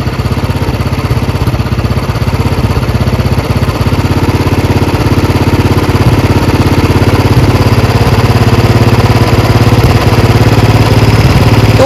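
A Royal Enfield Bullet 350 UCE engine runs steadily at close range during carburettor tuning, giving a loud, continuous throb that holds for the whole stretch.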